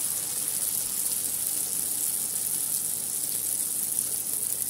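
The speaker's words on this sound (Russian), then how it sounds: "И в раскаленное масло опускаю баурсаки. Обжариваем до готовности с двух сторон" Baursak dough pieces frying in hot oil, a steady, even sizzle with a constant bright hiss throughout, close and uninterrupted.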